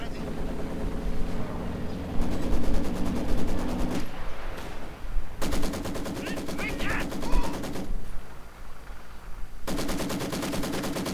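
Maxim machine gun fire in a Company of Heroes 2 match, sustained rapid bursts of mechanical gunfire with short gaps between them, mixed with other battle noise while a commentator talks over it.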